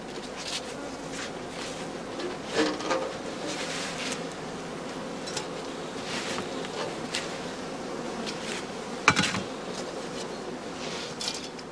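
Bees buzz around straw skeps being fed by a beekeeper, a dense continuous hum of many insects close by, with a few faint knocks.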